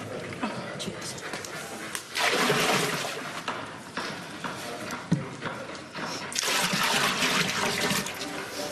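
Water poured into a pot in a Tudor kitchen at Haddon Hall, a broad splashing pour in two loud bursts with a dog panting and whimpering nearby.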